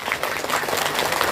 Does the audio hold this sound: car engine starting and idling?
no